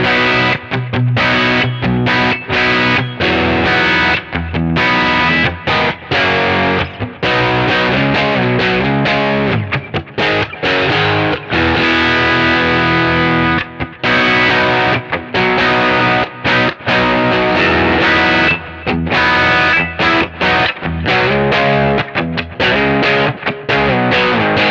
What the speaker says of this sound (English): Here is the 65 Deluxe profile, blah blah blah, with the ODR1, the real one,